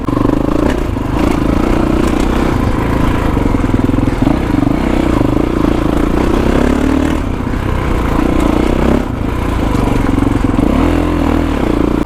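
A Kawasaki KX450X dirt bike ridden on wooded trails, its engine a loud, steady drone with small shifts in pitch as the throttle changes, heard close throughout against rattling and rushing air.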